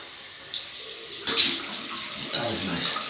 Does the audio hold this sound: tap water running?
yes